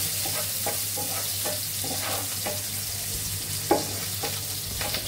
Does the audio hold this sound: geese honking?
no